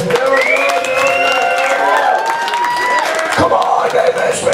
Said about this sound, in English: I want you to give a big round of applause to our good friends from Atlanta, Georgia